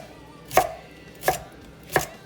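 Celery being chopped with a knife on a cutting board, three crisp, evenly spaced thuds close by in an otherwise quiet kitchen.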